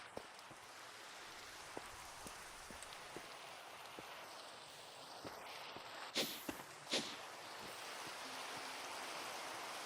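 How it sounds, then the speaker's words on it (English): Steady rain hisses softly in the video game Oceanblock 2, a continuous even patter with scattered light ticks and a couple of brief louder bursts, no talking. "Let's see if we can get rid of this rain"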